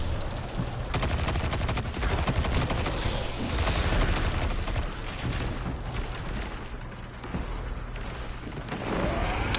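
Heavy, sustained gunfire in the video game Destiny 2 as two players shoot down groups of enemies, with dense rattling bursts and booms forming a loud, continuous wall of combat noise.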